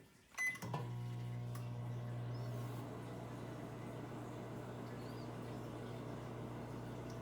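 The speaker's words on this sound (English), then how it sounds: "we're literally just gonna microwave nothing." An empty microwave oven running: a door thump and button beeps at the start, then a steady, close, continuous hum with a faint high tone that lasts the whole time, with no talking.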